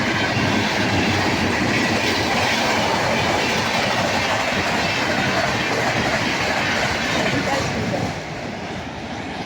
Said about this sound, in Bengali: যা ট্রেনের আওয়াজ, আমার তো কান ঝালাপালা হয়ে যায়